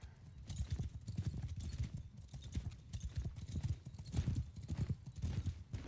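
Horse hooves galloping across a battlefield in Mount & Blade Bannerlord, a steady rapid clip-clop of many hooves drumming close and continuous over muffled low rumble.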